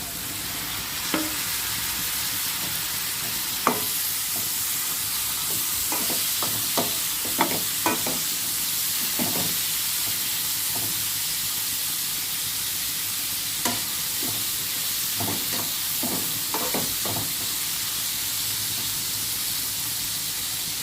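Tomato cooking down in a pan for a carrot fry, a constant soft sizzle broken by scattered stirring scrapes and small clinks of a spoon against the pan.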